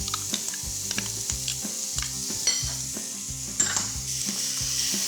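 Rib eye steaks sear in a hot pan with a steady sizzle, along with a repeated rhythmic clatter of stirring or scraping that pulses through the frying, close and fairly loud.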